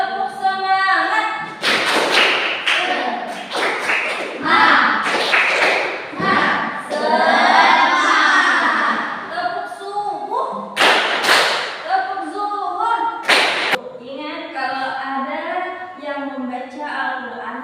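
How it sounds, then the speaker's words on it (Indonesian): A primary school class does a rhythmic tepuk semangat clapping cheer, patterned bursts of claps and thumps alternating with children chanting along in unison, with a teacher's voice at the end. "Tepuk semangat."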